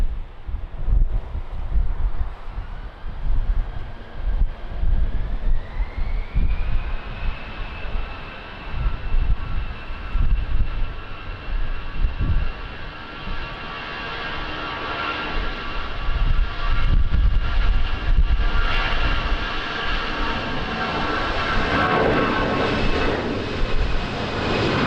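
A jet airliner moves through strong crosswind at Lisbon Airport, its engine roar steady and loud with a rising whine that holds high while gusts of wind buffet the microphone throughout.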